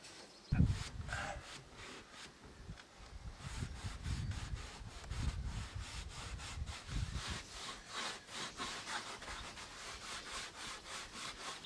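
Sanding the weathered wooden facade of a mountain chalet during renovation, a steady rough rubbing and scraping that carries on without a break, close and fairly loud after a sharp opening knock, with no speech.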